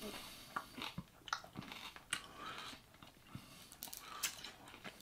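Close, quiet crunching of a Polish prickly pear hard candy with a fizzy lemon center: a series of irregular sharp cracks and bites spread over several seconds with soft chewing between them.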